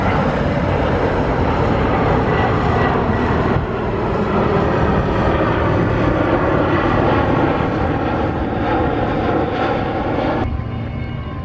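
An airplane lands near Split, its engine roar loud and steady for about ten seconds before cutting off suddenly, with no talking.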